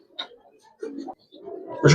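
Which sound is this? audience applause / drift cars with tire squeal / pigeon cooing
pigeon cooing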